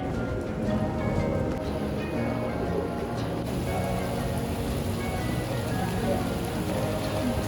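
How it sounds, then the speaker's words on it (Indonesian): Sudden heavy rain pours down at an outdoor cafe in Kintamani, Bali, a dense, continuous hiss of drops drumming on surfaces and a large umbrella, steady and close throughout. "sekarang tiba-tiba langsung hujan"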